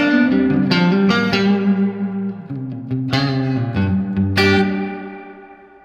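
Electric guitar played through a King Pedals Genesis reverb pedal, strummed chords and single plucks ringing out with long, washy reverb tails that swell and slowly decay.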